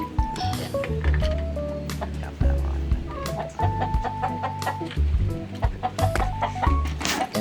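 Chickens cluck and call close by while being fed in the morning, several birds overlapping in busy, repeated clucks with short tonal calls, joined by occasional rustling and thuds.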